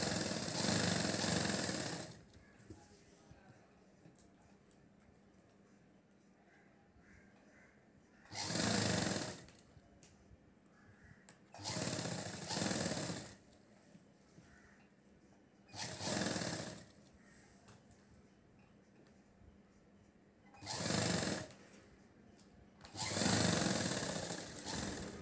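A sewing machine stitches a fancy umbrella-style chudidar top in six loud bursts of a second or two each, its mechanical whir starting and stopping with quiet gaps between runs.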